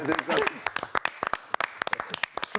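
Scattered clapping breaks out, uneven individual claps spaced irregularly, following a brief burst of talk at the start.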